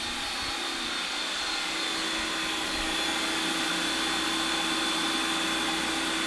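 Ninja Creami Deluxe ice cream maker running, a steady motor whir that grows slightly louder midway and continues throughout.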